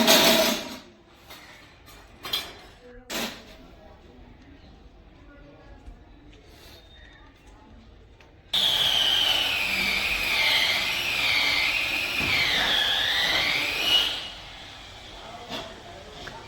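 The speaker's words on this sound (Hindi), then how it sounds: "इतनी ज़्यादा बंदर आ गए, इतने चीखते हैं बहुत बुरी तरह से" Monkeys screech in a sustained, high, wavering shriek lasting several seconds, loud and close, after a quieter stretch of scattered clicks and knocks.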